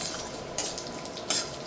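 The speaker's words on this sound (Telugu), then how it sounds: "ఆవాలు చిట్టుపట్లు ఆడుతున్నాయి" Mustard seeds crackling in hot oil during tempering for ginger chutney (allam pachadi), after fenugreek seeds have browned; a steady fine sizzle with a couple of sharper popping bursts, close and fairly quiet.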